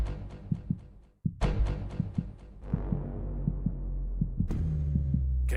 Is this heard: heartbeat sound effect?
yes